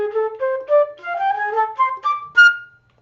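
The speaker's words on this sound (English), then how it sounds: "And in this case, it's a major blues scale." Major blues scale in F played as a single-note melodic run, each pitch sounding clearly and stepping upward over about three seconds, ending on a held high note that fades out, with no talking.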